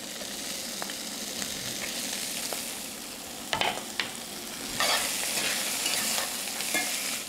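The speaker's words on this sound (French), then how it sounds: "Toujours avec de l'huile bien chaude. On saisit les têtes." Crayfish heads sear in very hot oil in a pan, giving a steady bright sizzle with a few sharp crackles and a louder burst of spattering toward the end, close up with no talking.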